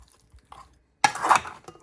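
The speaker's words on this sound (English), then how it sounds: "Give that a good mix around." Spare ribs are tossed with salt and pepper seasoning in a bowl: a few faint soft clicks, then a short louder burst of wet clattering and scraping near the middle, alone and close by.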